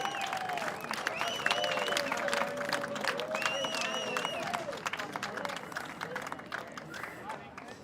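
Spectators on Belmont Pier at a sailing regatta cheer and clap steadily for several seconds, a dense, fairly distant crowd sound with a few whistles, fading slightly toward the end.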